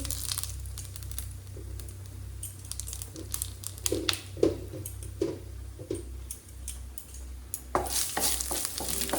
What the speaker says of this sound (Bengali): একটু নেড়ে চেড়ে নিলাম, সর্ষেটা ফুটে গেছে, খুব ভালোভাবে পুড়েও গেছে